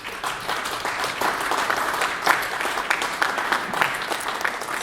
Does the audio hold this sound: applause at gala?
yes